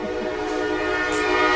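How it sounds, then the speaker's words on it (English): A train horn blares in one sustained, loud, steady tone, close by and alone without any talk. "the train that's designed to go through and honk its horn"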